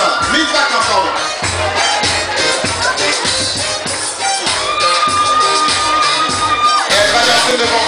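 Loud crowd noise at an outdoor beauty pageant, with cheering, shouting and clapping blended under amplified voices and music, sustained at full volume from start to finish.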